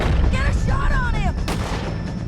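Gunfire in Red Dead Redemption 2 sounds as loud, dense booming shots layered over a continuous rumbling game soundscape, with voices mixed in.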